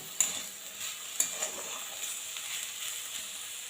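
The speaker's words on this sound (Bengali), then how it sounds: "চিনি দেওয়ার পর খুব ভালো করে একটু মিশিয়ে নেব" A beetroot and banana stem curry is stirred in a pan after sugar goes in. Two sharp spoon clinks punctuate a soft, continuous scraping and light sizzle, close and fairly quiet, with no voices.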